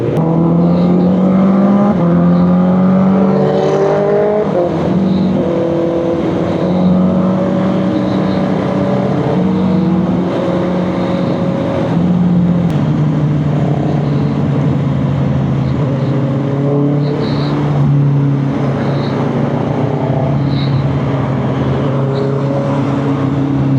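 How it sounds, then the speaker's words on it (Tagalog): A Honda CB650R E-Clutch big bike is ridden on a Saturday morning ride. Its engine drones loudly and continuously, rising and falling in pitch as it revs and shifts, with no voices over it. "Ganito mag-drive si Boss Vic eh"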